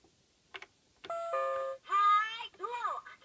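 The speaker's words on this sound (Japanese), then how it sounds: "ピンポンを鳴らすと こんにちは、僕アンパンマン。" Toy doorbell on an Anpanman toy table chiming twice, a bright electronic ding-dong, followed by a cheerful electronic toy voice phrase, close and clear in a quiet room.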